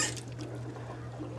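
Water drains down a sewer pipe during a home sewer repair, a short burst of gurgling, trickling liquid over a steady low hum, close and continuous.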